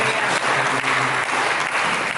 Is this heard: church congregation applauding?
yes